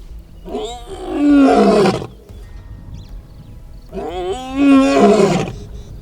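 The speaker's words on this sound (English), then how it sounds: "A lion's roar can be heard up to 8 kilometers away." A lion gives two deep, powerful roars, each swelling and fading over about a second and a half, separated by a quiet pause, loud and close.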